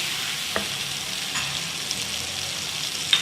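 Garam masala and spices roasting in a pan for a steamed chana dal bariyan gravy, a constant frying sizzle with a few soft clicks of a spoon stirring, close and unaccompanied by speech.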